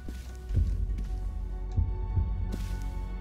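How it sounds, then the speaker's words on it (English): A heartbeat effect in a video game, a deep, close, throbbing pulse repeating at a steady slow rhythm over a low hum. "If it wasn't like this heartbeat sound"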